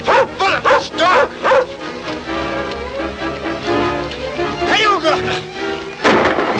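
A dog barks and whimpers in short bursts over a dense, constant bed of music and voices, with sharp yelps near the start and end.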